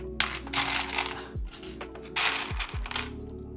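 Loose keyboard keycaps clattering and rattling as they are tipped and shuffled, two bright bursts of plastic clicks with small knocks in between, close by and without talk.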